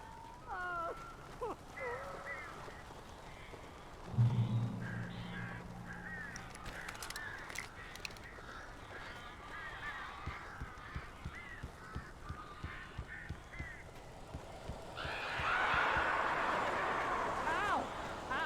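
Crows cawing and honking in the horror video game Alan Wake, with harsh squawks scattered throughout, partly under a voice speaking, plus a rising rush of noise near the end.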